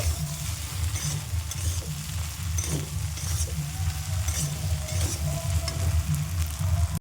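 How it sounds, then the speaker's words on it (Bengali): Pasta in tomato sauce is stirred in a pan on the stove, giving a steady sizzle under a low rumble with occasional scrapes, continuous and fairly loud throughout. "ভালোভাবে নাড়িয়ে চাড়িয়ে নেব।"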